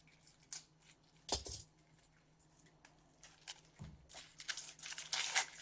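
A blade slices into unboxing packaging for The Awful Orphanage, giving quiet scraping and crinkling with a few sharper cutting snaps and rustles that grow busier toward the end.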